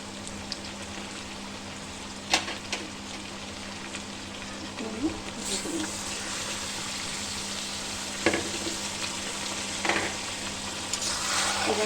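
Mutton pieces and onions sautéing together in a pan for a country-style goat curry, a steady loud sizzle broken by occasional spatula scrapes and clacks, with no one speaking.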